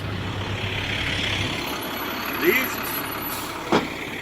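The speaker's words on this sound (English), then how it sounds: "here comes another school bus" A school bus arrives at the Columbus port of entry, its engine rumbling steadily with a couple of short air-brake hisses, while someone talks over it.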